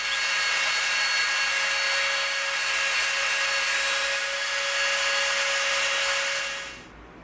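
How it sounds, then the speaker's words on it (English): A Dremel rotary tool rounds off EVA foam with a steady high-pitched whine that holds constant for several seconds, then winds down at the end; no talking. "now we're going to come in with our Dremel and we're going to round this off"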